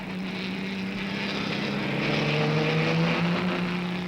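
A vintage Fiat racing car at the Lyon Grand Prix drones with a loud, steady engine roar that swells slightly as it nears, with no voices.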